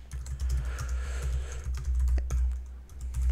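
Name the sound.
typing on a computer keyboard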